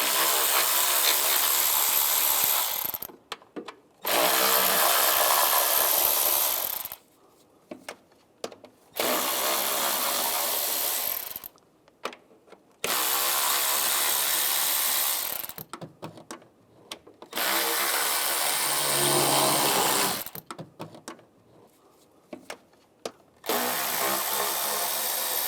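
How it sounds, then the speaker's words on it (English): Power tool bursts removing intake bolts with an 8mm socket on a 2011-2018 RAM 1500 3.6L V6, about six loud whirring runs of several seconds each separated by short silent gaps. "Now I'll take these bolts out on the top and on the bottom of the intake."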